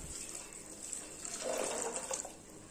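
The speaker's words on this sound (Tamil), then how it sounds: "இதில் தேவையான அளவு தண்ணியை ஊற்றிக்கணும்." Water pours from a tap into a pressure cooker holding soaked chickpeas, a soft, continuous splashing and rushing that swells briefly in the middle, fairly quiet and with no talking.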